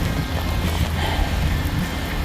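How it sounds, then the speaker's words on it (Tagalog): Rain falling outdoors in bad weather, a dense continuous hiss with low rumbling wind, steady and close with no voices. "ulan ng ulan"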